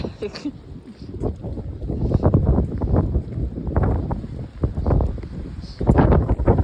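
Strong gusts buffet the microphone in uneven rumbling bursts, loud and close, with faint background voices now and then.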